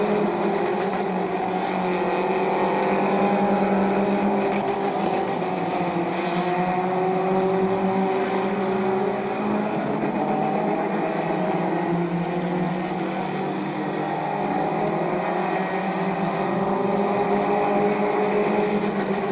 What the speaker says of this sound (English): Del Vecchio and Fuchs racing for the 4th position.